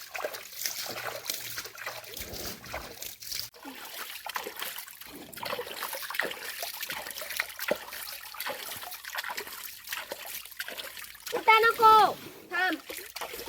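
Water splashes and trickles near buffaloes being bathed, with people talking throughout and a brief higher-pitched vocal sound near the end.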